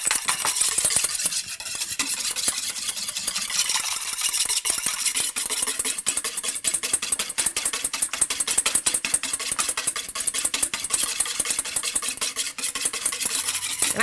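Vegan, gluten-free yellow sheet cake batter is whisked by hand in a bowl until frothy, a fast, continuous, even scraping and swishing rhythm held close and steady throughout.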